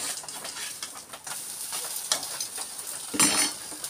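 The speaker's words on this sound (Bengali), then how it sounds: "তো আমার পিঠেটা চুলোর মধ্যে রয়েছে, গ্যাসের মধ্যে" Pitha cooks on a gas stove with a soft, steady sizzle, punctuated by a short sharper hiss near the end and faint chirping in the background.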